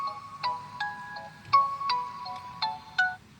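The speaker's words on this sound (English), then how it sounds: "oh, my phone's ringing." A phone ringtone plays a bright repeating melody of short electronic notes, clear and close, with no talking over it.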